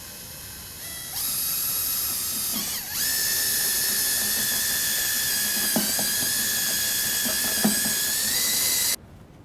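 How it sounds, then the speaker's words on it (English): An electric drill on slow speed mixing plaster in a bucket, a steady high whine that starts up and runs continuously with faint scraping underneath, close, ending abruptly as it stops; no talking. "Drill's on slow speed."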